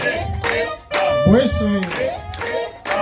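An audience at a gathering claps together in brief rhythmic bursts, with voices speaking and calling out over the clapping.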